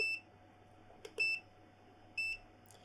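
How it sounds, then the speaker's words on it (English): Two short high-pitched electronic beeps from an AiXun T3A soldering station, then a pause and a third beep, clean and fairly close against a quiet room hum. "whether we want that annoying beep on or off"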